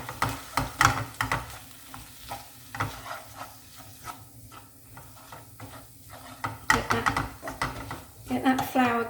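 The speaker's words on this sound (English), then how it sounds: "Get that flour cooked first of all." Flour cooking in a pan as the base of a cheese sauce for cheesy bacon pasta, gentle sizzle and stirring scrapes under a speaking voice that comes and goes.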